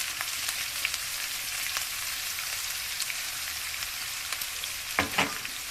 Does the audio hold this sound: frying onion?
yes